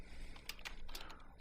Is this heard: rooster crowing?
no